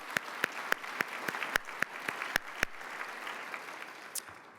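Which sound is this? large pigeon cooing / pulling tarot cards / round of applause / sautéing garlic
round of applause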